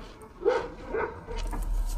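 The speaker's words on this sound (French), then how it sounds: "il y a aussi le chien maintenant qui aboie" A dog barks indoors at a moderate distance, two muffled woofs about half a second apart followed by softer yips, with faint room noise behind.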